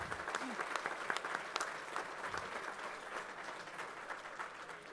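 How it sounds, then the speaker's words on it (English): Applause from an awards-dinner audience fills the room, steady and even throughout, heard from a distance with faint voices mixed in. "let's give Colin a round of applause, though, for all of his support"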